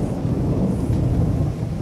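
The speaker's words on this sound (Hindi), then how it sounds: "हया, क्या तुम इस बारिश में पैदल आई हो?" Heavy rain with thunder: a loud, steady downpour and deep rolling rumble fill the whole stretch without pause, with no one speaking.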